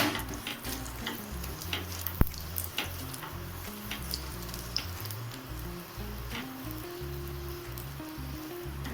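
A paratha frying in ghee on a pan gives a continuous close sizzle with scattered small pops and crackles throughout.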